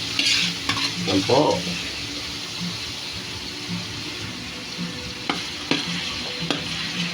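Onions sautéing in a pan for pork mechado, a continuous close sizzle with a few utensil clinks and stirring sounds, while a voice speaks briefly near the start.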